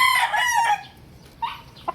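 A fighting rooster crows once up close at a gamefowl market, a bright drawn-out call, followed by a few short clucks in the quiet afterward.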